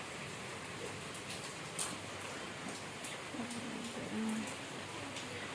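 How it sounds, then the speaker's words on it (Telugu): Heavy rain pours over Kakinada, making a steady, even hiss that continues through the whole stretch, with a few faint brief tones and no clear voices. "ఎంత ఎక్కువ వర్షం పడుతుందో చూడండి"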